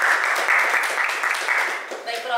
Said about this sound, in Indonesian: Beri tepuk tangan untuk hasil diskusi kelompok 2.